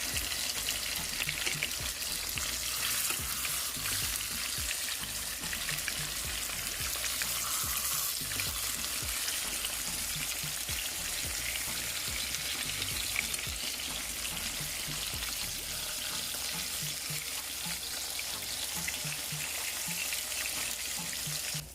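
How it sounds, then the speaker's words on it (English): Salmon fillets sizzle and fry steadily in a pan, a dense continuous hiss with small pops and crackles throughout, close and fairly loud with no talking. "when you think they fry up somewhat"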